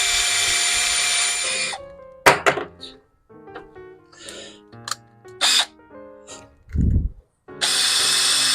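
Power drill unscrewing screws from an old desk in a garage, a short whirring burst followed by clunks, rattles and knocks of handled parts, then another drill run at the end, without talk.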